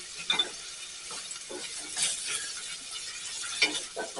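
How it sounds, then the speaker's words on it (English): Garlic sizzling in a pan: soft crackling sizzle, quiet and steady with a few brighter pops and faint clinks of a utensil. "you can see how the liquid, that was in the garlic starts to sizzle"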